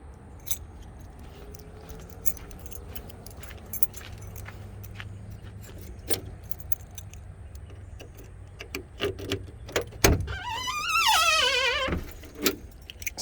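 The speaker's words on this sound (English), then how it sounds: "Factory original keys." Original keys for a 1979 Cadillac jangle on a keychain, repeated close metallic clinks and rattles spread through the stretch, followed by a brief swelling whine; no one speaks.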